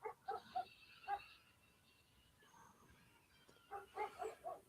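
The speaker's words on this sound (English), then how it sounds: "they're barking at like random critters outside" Several dogs outside bark in short bursts, a quick cluster at the start, a single yap, then another run of barks near the end, all heard at a distance.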